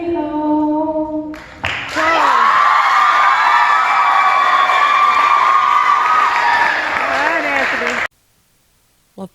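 Campers at a camp talent show break into loud, sustained applause and cheering with whoops right after a hymn-like song ends, filling several seconds before stopping abruptly.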